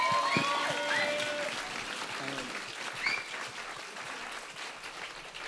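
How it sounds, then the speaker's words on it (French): Church congregation applauding during a youth Sunday service, a moderate clapping crowd with scattered whoops and cheers, fairly close and sustained for several seconds. "please clap for them?"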